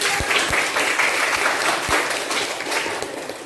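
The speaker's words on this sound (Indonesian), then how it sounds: "tepuk tangan" A classroom of schoolchildren claps together on the teacher's cue, a full, even burst of applause with a few sharp hand slaps standing out near the start before it thins slightly toward the end.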